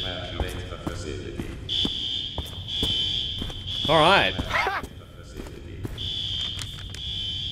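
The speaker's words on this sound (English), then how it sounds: "That alarm is ear-piercing." An ear-piercing alarm in The Chameleon video game, a shrill steady tone that blares in long stretches and briefly cuts out, with voices talking over it.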